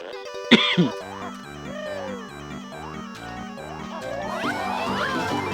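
A single sharp cough bursts out near the start over steady Banjo-Kazooie game music and electronic tones that continue throughout.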